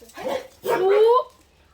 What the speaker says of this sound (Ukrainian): а гавкіт собак будемо намагатися тут всіх перекричати